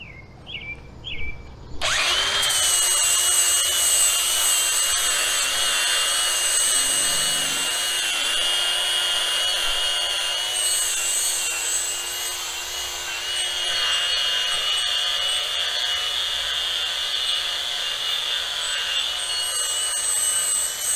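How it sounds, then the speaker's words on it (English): Angle grinder fitted with a 40 grit flap wheel strips old finish from a metal outdoor light post, a loud, steady abrasive whine and grind running continuously after a brief start. "Stripping the finish off with a 40 grit flap wheel on an angle grinder"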